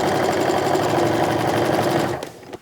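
A sewing machine strip-pieces fabric strips for a quilt, running in one loud, fast, continuous stitching whir that stops abruptly at the end.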